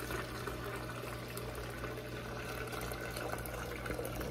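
Freshly boiled tea poured into a vessel to steep for small-batch kombucha, a steady continuous splashing and trickling of liquid, fairly faint and even throughout with no talk.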